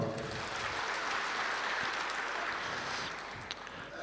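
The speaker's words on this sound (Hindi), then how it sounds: "थोड़े हाथ हैं, इनके लिए ताली बजाओ।" Hall audience clapping steadily throughout, a dense, even wash of many hands at moderate loudness with no voices over it.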